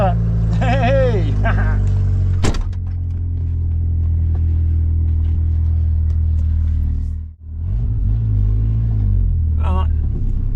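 A hotwired Vauxhall Astra saloon engine runs close and loud, revving up early, then idling steadily, briefly cutting out and catching again, with voices talking over it.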